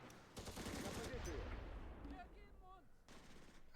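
Gunfire in the Close Combat wargame as a Soviet Strelky team opens up on German troops caught in the open, a dense burst of shots near and loud that thins out into scattered shots with faint calls in the mix.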